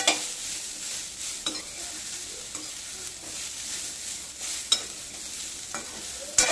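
Cluster beans (gavar) stir-roasted in a pan, a steady close sizzle with scattered scrapes and a few sharp spatula clicks against the metal.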